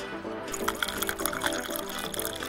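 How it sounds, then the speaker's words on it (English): Hot tea dripping steadily through holes poked in a hollowed-out orange rind, a continuous liquid trickle with small repeated drip accents, close and fairly clear with no talking. "Just watch it drip."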